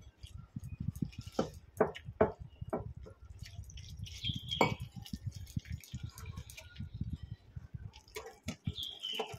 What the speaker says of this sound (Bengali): এবারে যতটা জল প্রয়োজন হবে অল্প অল্প করে জল দিয়ে একটা ব্যাটার বানিয়ে নেব।